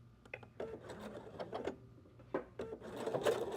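A sewing machine stitches across a pillow corner, its needle chattering in short close bursts that start and stop, with faint handling noise between runs.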